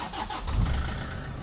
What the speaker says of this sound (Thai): มาฟังเสียงเครื่องยนต์กันเลยนะครับ